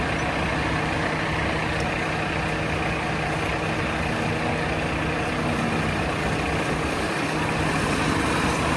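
A grain truck's engine rumbles and idles steadily nearby while a chaser bin loads it during harvest, a continuous low mechanical drone with no distinct events and no talk.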